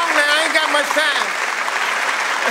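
A training-event audience applauds, with voices and cheering mixed into the dense, continuous clapping throughout.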